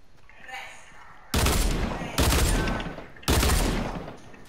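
Gunfire in the video game Fortnite: after quieter background, three loud sustained bursts of shooting arrive one after another, with players chatting faintly between them.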